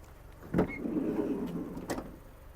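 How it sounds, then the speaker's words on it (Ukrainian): A 2009 Volkswagen Caddy Maxi Life's sliding door thuds, then rolls along its track with a rumbling slide before a second clunk as it stops; nearby and moderately loud. "Давайте відкриємо ще другу дверку."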